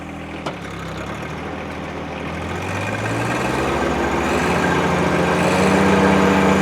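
A 2020 John Deere 1025R sub-compact tractor with a 60-inch belly mower runs at a steady idle, a low, even engine rumble that builds slightly in loudness throughout, with no talking.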